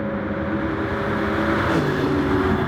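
Race cars in a racing video game, running at Circuit de la Sarthe, accelerate side by side in a drag race, a dense, steady engine roar that swells slightly, loud and close, with no talking.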